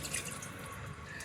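Water trickles and splashes steadily into a cooking pot for a soup broth, a soft continuous pouring that stays faint and close throughout.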